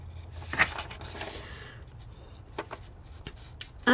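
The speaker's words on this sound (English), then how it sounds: "let's just cut a few pieces of paper here with our scissors" Scissors cutting sheets of paper at a craft table, a few soft snipping and rustling strokes, close and quiet, with paper handling noises between cuts.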